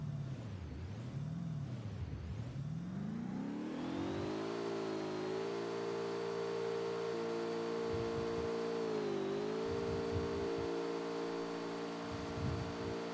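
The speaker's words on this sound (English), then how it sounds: "Car coming back again." A car engine rising in pitch as it approaches and passes, with a steady engine hum continuing throughout at moderate loudness.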